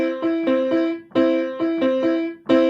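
Piano playing a 3 against 2 polyrhythm, right hand in threes over left hand in twos, with clear repeated struck notes in a steady looping cycle, close and fairly loud.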